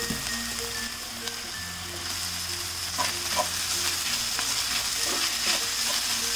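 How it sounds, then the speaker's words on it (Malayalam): Chopped onions sauté in a pan for chicken thoran, a soft continuous sizzle with occasional spoon clinks and scrapes, fairly quiet and close, with no voices. "ഇനി നമുക്ക് ഈ അരിഞ്ഞു വെച്ചിരിക്കുന്ന സവാള ഇതിലേക്കിട്ട് വഴറ്റിയെടുക്കാം."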